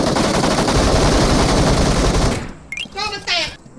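Sustained automatic gunfire in the video game PUBG rattles loudly and densely for over two seconds, then cuts off as excited voices talk over the quieter game sounds.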